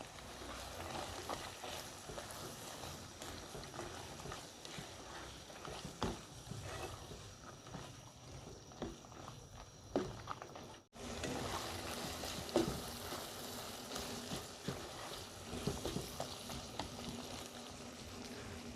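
Spices, bean seeds and three green chillies sauté in a pan for a bean-seed fish curry, making a faint, steady sizzle with soft scraping and stirring. A brief break in the sizzle falls midway.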